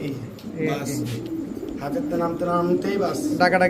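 Pouter pigeons at a bustling pigeon market coo repeatedly in low, rolling bursts, close and fairly loud, with a voice talking over them throughout.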